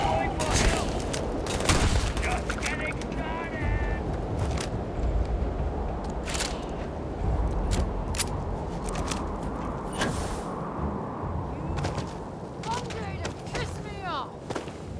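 Gunfire from a gun in the Starfield video game, a run of sharp rapid shots cracking over dense combat noise, with voices speaking among the shots.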